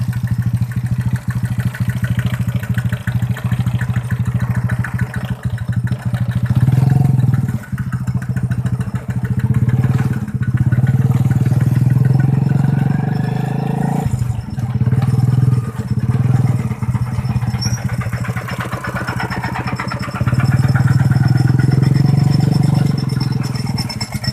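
Engine-driven water pumps, fourteen set up along a line, drain 400 rai of flooded rice fields, producing a loud continuous low chugging drone with irregular thumps and clatter, steady throughout.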